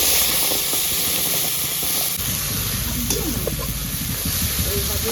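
Cumin, bay leaves and a spice paste hit hot oil for a rohu fish curry, giving a loud, steady frying hiss that runs the whole time while a voice briefly speaks over it.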